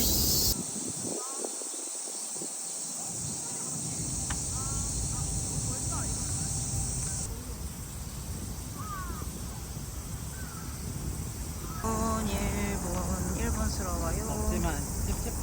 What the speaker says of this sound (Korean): 근데 한국에서도 이 정도 매미 소리 못 들을 것 같아